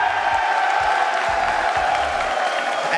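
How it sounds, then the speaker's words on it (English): Arena crowd at a Rocket League world championship match, a dense sustained roar of cheering with rhythmic chanting pulses and scattered clapping, loud and continuous. "you're hearing all the chants, the cheering, the clapping here"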